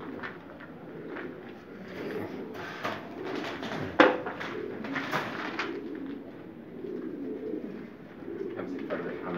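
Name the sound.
pigeons cooing while being handled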